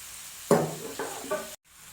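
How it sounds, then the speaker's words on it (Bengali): Chopped onion hits a hot pan on a gas stove with a sudden sizzle, then is stirred in a couple of short bursts before the sound cuts out. "দিয়ে ওটাকে আমি একটু ভাজা ভাজা করব।"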